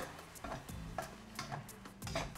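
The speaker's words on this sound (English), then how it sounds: "So I'm adding the tomato puree, stir it up a bit." Tomato puree being stirred in a cooking pan for a fish molee curry, giving soft, uneven scraping and rubbing strokes at close range, with faint sizzling underneath.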